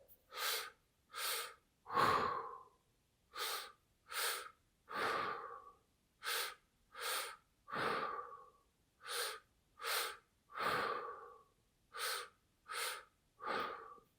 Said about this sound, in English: Low belly, pause, high chest, exhale.